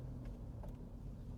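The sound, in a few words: droning noise from worn diff bearings in driving car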